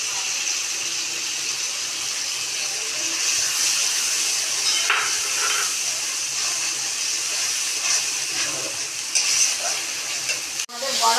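Cashew-poppy seed paste added to tomato masala frying in a pan for kasoori paneer and stirred, a steady close hiss and sizzle with occasional scrapes and a sharp clank near the end.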